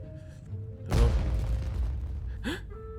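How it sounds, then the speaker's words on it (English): A fireworks blast in Genshin Impact bursts suddenly as a loud boom with a crackling, decaying rumble, followed by a short sharp pop and brief game-sound chirps. "Was that an explosion? It sounded like fireworks."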